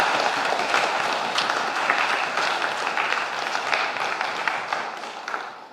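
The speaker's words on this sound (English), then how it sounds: "Let's give these young people a round of applause." A church audience gives steady, full applause for a student choir during a sermon service, a dense wash of clapping that holds for several seconds and thins slightly toward the end.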